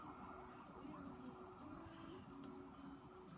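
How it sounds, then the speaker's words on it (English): An ambulance siren wails at a distance, its steady tone rising and falling outdoors, with faint bird calls and a few quiet background noises. "wow, ambulance is out there today"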